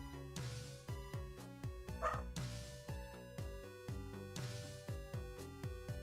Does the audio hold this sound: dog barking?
yes